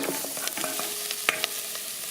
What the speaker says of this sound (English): Now, I'm adding my veggie chunks.